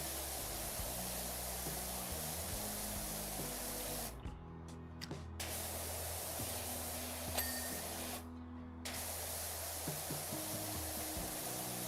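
A pressure washer in Powerwash Simulator 2 sprays through the green nozzle, giving a steady, close hiss that cuts out twice for a second or so before resuming.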